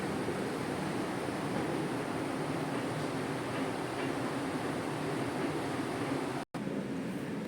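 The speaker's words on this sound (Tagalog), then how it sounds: "Grabe yung ulan guys. Sobrang lakas." Heavy rain pours steadily in Hong Kong, a dense, even roar that holds at a constant level. It breaks off for a moment near the end and then comes back.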